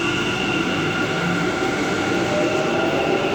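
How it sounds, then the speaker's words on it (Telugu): A Bengaluru Green Line metro train pulls away from a station platform toward Madavara, a loud, steady rumble of wheels and motors close by, continuous throughout. "సో ఇప్పుడే ట్రైన్ అయితే వెళ్ళిపోతుంది, ఇంకో ట్రైన్ రావాలి ఇప్పుడు."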